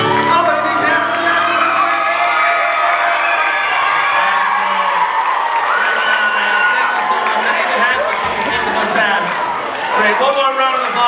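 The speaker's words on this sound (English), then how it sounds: "one more round of applause when they head back to the audience" Crowd at a live water-themed stage show applauding and cheering with whoops and children's shouts, loud and sustained, with a voice speaking over the start.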